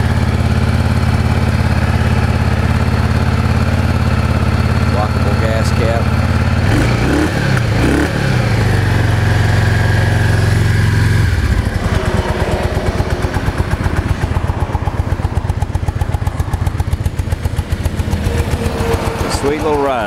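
A used Yamaha XVS650 motorcycle idles with the choke on, a loud, steady mid-pitched engine drone throughout, its tone shifting partway through and settling into a rapid even throb, heard close.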